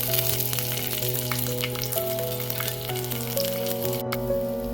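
Onion and potato masala fries in oil, a steady crackling sizzle with scattered pops, fairly close and continuous throughout under a low hum.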